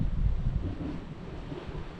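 Gusty wind buffeting the microphone on a beach at Roundham, a dense low rumble with a faint wash of surf behind it, steady throughout.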